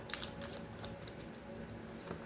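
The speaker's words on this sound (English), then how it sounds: "Let's shuffle this spread." Tarot cards being shuffled by hand, a faint, rapid riffling patter with a few soft sharper flicks, quiet and close, with no talk over it.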